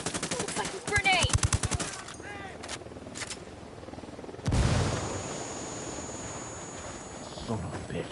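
Video game gunfire in Ghost Recon Wildlands: a rapid automatic burst followed by scattered shots and a heavy blast, with game ambience, all fairly quiet in the mix.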